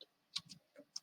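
Faint key presses on a computer keyboard, a few soft separate clicks in quick succession in a quiet room.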